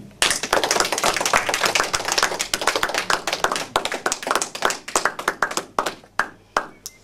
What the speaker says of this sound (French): Nous applaudirons spontanément, simplement parce que nous aimons les chansons qu'elle nous présente.